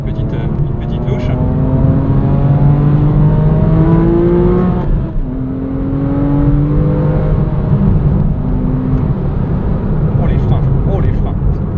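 A Porsche 911 997 Carrera S with the 3.8 flat-six revs hard while driving, its loud engine note rising through the gears in repeated climbing sweeps with a brief dip at a shift, close and dominant throughout.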